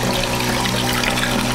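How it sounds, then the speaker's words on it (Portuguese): A small, cheap irrigation water pump runs with a strong gush of water pouring out, a loud, continuous close splashing flow. "E saindo água. Olha a quantidade de água que está saindo. É bem forte essa bomba."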